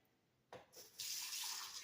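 Tap water runs into a sink after a pot is emptied, starting with a brief gush and then settling into a steady, bright, close rush that continues alone.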